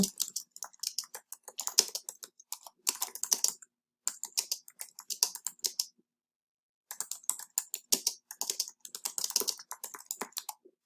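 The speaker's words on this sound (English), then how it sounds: "And so if you start typing" Rapid clicking of a computer keyboard in several bursts separated by short pauses, close and fairly quiet, with no voices.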